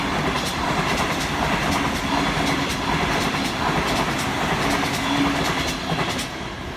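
A Tangara electric train runs past the platform at Ashfield station in Sydney, giving a steady, loud rumble with repeated clickety-clack from the wheels the whole way through and no talking over it.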